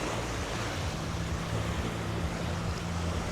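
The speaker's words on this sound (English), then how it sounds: "Just a little, couple of small waves." Small ocean waves at a Caribbean beach in Playacar, Playa del Carmen, a soft, steady wash of surf with low wind rumble against the microphone, fairly quiet and continuous.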